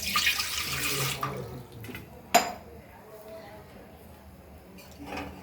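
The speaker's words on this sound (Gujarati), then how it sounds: "તો હવે આપણે 1 ગ્લાસ પાણી ઉમેરી અને સાંબાને પહેલા પકવી લઈશું।" A glass of water is poured into a cooking pot to boil samba wheat for kheer, a brief splashing gush followed by a metallic clink of the vessel, then quiet kitchen sounds with light speech nearby.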